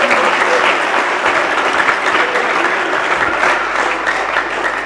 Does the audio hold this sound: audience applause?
yes